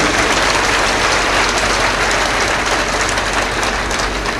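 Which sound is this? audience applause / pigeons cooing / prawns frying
audience applause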